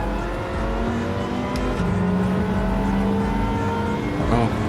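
Nissan GT-R race car in Gran Turismo 7, a sustained engine drone with shifting pitch as it accelerates among other cars, steady and fairly loud throughout.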